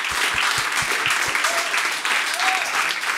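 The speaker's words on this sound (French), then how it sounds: "J'aimerais ça qu'on donne une bonne main d'applaudissement à Pierre-Luc Pomerleau et Mathieu Pepper" A studio audience applauds podcast guests with a steady, dense wash of clapping that carries evenly through the whole stretch, with a few low thumps near the start and no voices rising above it.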